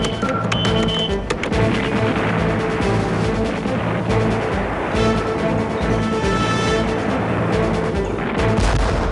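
Large guns fire in heavy, booming artillery bursts that overlap into a continuous loud barrage with crashing echoes, and no voices are heard.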